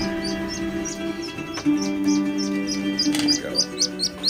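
A Mandarin duckling in a brooder gives repeated high, thin peeps in a steady series, close and clear over a low background hum.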